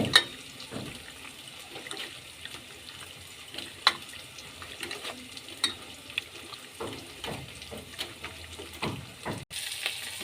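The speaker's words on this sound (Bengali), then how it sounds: "পেঁয়াজটা ভাজা হয়ে গেছে" Onions frying in a pan give a soft, uneven sizzle with scattered clinks and scraping from stirring, close but fairly quiet, with no voices.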